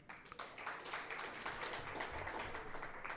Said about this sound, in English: I want you guys to give a round of applause for yourself for making this effort.